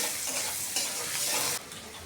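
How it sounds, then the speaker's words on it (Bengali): Chopped onions hit hot oil already frying cardamom, cinnamon, cloves, black pepper and bay leaf, giving a loud, steady sizzle with stirring scrapes that drop suddenly quieter near the end. "ফোড়নে দিয়ে দিব এলাচ, দারচিনি, লবঙ্গ, গোলমরিচ আর দিব তেজপাতা। কুচি করা পেঁয়াজগুলো দিয়ে দিব।"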